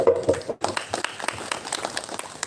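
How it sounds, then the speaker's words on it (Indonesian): Applause from an audience at a parents' orientation session: a brief burst of scattered hand claps that builds after a short pause, moderately loud in a room. "Kita beri tepuk tangan untuk"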